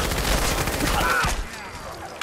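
Gunfire in Fallout 4, a loud rapid burst of shots that cuts off after about a second and a half into near quiet, with a faint voice under it.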